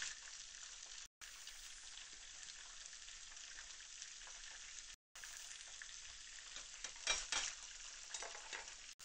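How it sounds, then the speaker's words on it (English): Steady crackling sizzle of fish frying in hot oil, close and continuous, with a brief louder spatter near the end and two short cutouts. "I'm frying them until they're golden brown."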